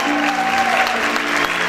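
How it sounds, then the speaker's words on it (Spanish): Congregation clapping during a Spanish-language church worship service, a steady dense applause that runs the whole time, with a sustained tone from music or a voice carrying on above it. "Aplaude fuerte a tu Dios en esta hora."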